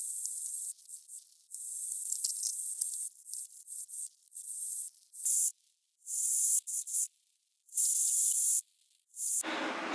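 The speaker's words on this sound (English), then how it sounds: "We're all good, let's keep welding." A Superior Engineering comp spec diff brace kit is welded onto a Nissan Patrol, producing about a dozen intermittent bursts of sharp crackling hiss separated by short silences, close and steady within each burst.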